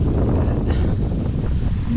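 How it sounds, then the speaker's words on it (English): Strong coastal wind at Penmon, Anglesey, buffets the microphone with a continuous roaring rumble, no voices present. "It's still a bit windy."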